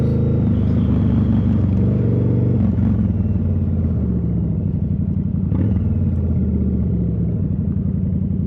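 A cruiser motorcycle's engine rumbles steadily while riding under throttle, loud and close, with a dense low drone that wavers as the throttle changes and no voices over it.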